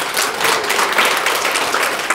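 An audience claps and applauds throughout a talk on hwadu Seon meditation, a dense, loud, steady burst of many hands.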